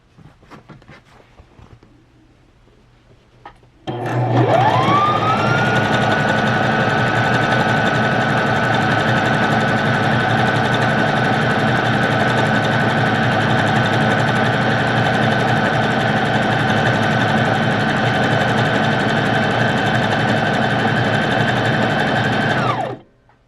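A Brother sewing machine runs a decorative stitch. After a short quiet start the motor whirs up and keeps a steady, loud, close rhythmic hum for about nineteen seconds before stopping.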